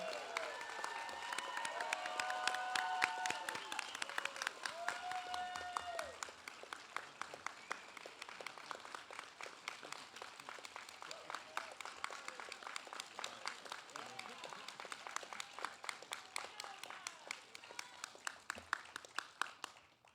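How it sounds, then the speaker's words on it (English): Sustained applause from an audience at a United States Coast Guard Boatswain's Mate A School graduation ceremony, dense steady clapping for the full length, loud at first and easing slightly while staying continuous, with faint cheers early on. "Would you please join me in a round of applause for the graduates"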